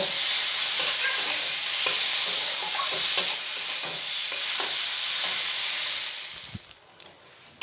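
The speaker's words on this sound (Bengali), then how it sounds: "দিয়ে খুব ভালোভাবে একটু নাড়াচাড়া করে কষিয়ে নেব।" Spices with chopped green chili and tomato sizzle and are stirred in a pan for a Bengali vegetarian khichuri, a steady close frying hiss broken by scraping strokes. The sizzle drops away near the end, leaving a few separate clicks.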